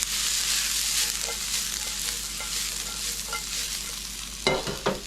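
Vegetables and chips seasoned with salt and cumin sizzle steadily in a hot pan as they are stirred. Scraping strokes recur at a regular pace, and a couple of louder clatters of the utensil come near the end.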